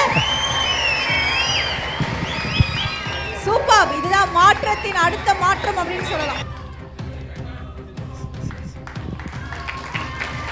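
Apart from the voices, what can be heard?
audience applause and cheering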